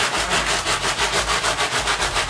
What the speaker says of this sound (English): we're gonna take our spaghetti cutter and we're gonna start sawing through the spaghetti